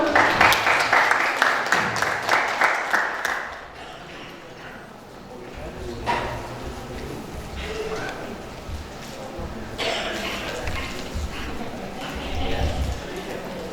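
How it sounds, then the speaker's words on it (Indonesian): An audience at a short-story writing talk session claps in a loud burst of applause that fades after a few seconds, followed by quieter room noise and scattered sounds. "Sekali lagi tepuk tangan untuk Pak Ikun teman-teman."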